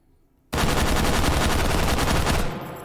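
An H51 rifle fitted with a muzzle brake fires in H3VR, a loud, rapid fully automatic burst of about two seconds, the shots running together into a dense rattle that cuts off abruptly with a short decaying tail.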